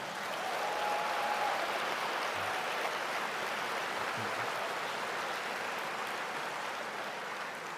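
An audience at a poetry prize reading claps in a sustained, dense round of applause that holds steady and fades slightly toward the end.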